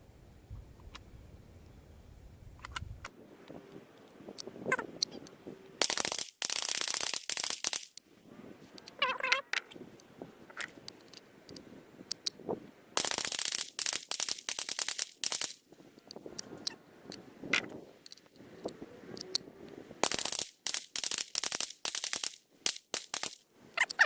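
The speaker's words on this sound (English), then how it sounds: "We're going to shoot those another 3 rounds, 3 times." Rifle gunshots fired through Ruger BX-25 magazines at an outdoor range, loud sharp cracks coming in three separate bursts of rapid shots, with quieter handling noises and pauses between the strings.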